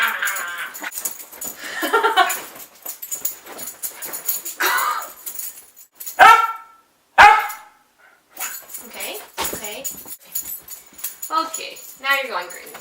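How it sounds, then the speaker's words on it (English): A pet dog barks repeatedly indoors in a bedroom, loud sharp bursts coming in clusters with pauses between them, mixed with a person talking. "Dog! Get out of here!"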